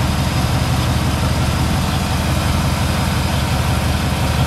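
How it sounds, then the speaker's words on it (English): A 1957 Chevrolet Bel Air engine idles steadily at close range, a deep, even rumble with no voices. "This car just sits and idles awesome."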